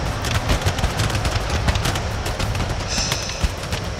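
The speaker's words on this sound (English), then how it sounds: "my grenades here are firing in a column, which is not very effective" Grenadier units firing volleys in column during an Empire: Total War battle, a dense, continuous crackle of musket shots overlapping into steady gunfire with sharper cracks scattered throughout.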